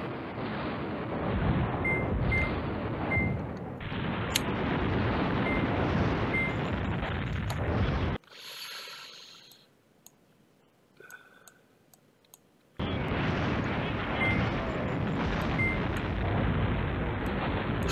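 Airstrike explosions in the Command Ops 2 wargame, a loud continuous roar of blasts that cuts to near silence with faint ticks and clicks for several seconds, then resumes at full strength, with no talk.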